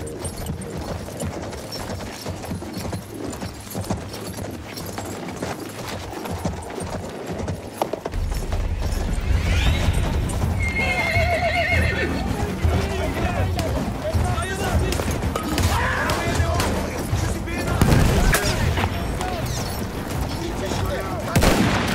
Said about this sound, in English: The Bedouin treasured their horses, and in return, those animals granted their riders unparalleled speed and mobility.